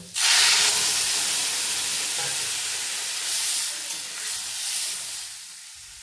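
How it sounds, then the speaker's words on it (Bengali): Water poured into a hot pot of lentil dal with papaya, carrot and salt bursts into a loud sizzling hiss that settles into steady bubbling and steaming, close by with no talk. "এবারে জল দিয়ে দেব"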